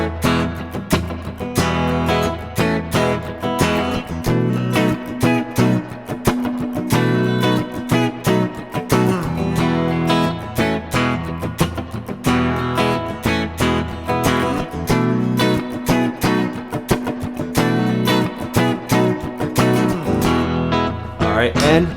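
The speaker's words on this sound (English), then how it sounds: "let's whip up another backing track, once again using the Nano Looper 360" A blues rock guitar backing track running from a Nano Looper 360 loop pedal, with a dense, steady band-like groove that plays loud and continuous throughout, rhythmic chords over a low end, no voices.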